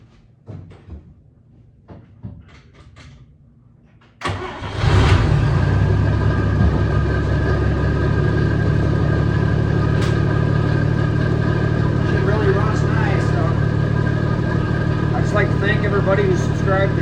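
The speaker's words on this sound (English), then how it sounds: "I'm going to just fire it up quick right here in the garage." A 1956 Chevy 210 with a 235 inline-six starts in a garage: a few clicks and a brief crank, then it catches and settles into a loud, steady idle close by.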